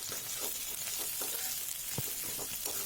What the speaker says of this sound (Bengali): তারপর আবার একটু নাড়াচাড়া করে ভালো করে মশলাটা ভেজে নিলাম